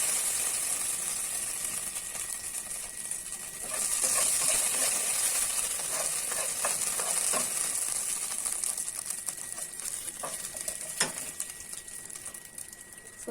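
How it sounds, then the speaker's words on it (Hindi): Panch phoron spices heat in hot oil, giving a steady soft sizzle and hiss with scattered small crackles and pops, one sharper tick standing out, no talking. "ये पंचफोड़न जो मैंने आपको दिखाया था वो सब हम इसमें डालेंगे"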